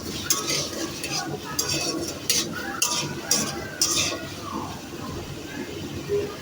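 Beef fries in a pan on a raised flame while a utensil stirs it, metal clinking and scraping against the pan in repeated strokes over a steady sizzle, close and fairly loud.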